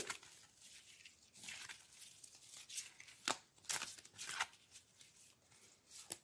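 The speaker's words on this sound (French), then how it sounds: "C'est pas évident de mélanger ce jeu." A deck of tarot cards is shuffled by hand in a run of soft riffles and flicks, with a few sharper snaps. The sound is close and fairly quiet, with no voices.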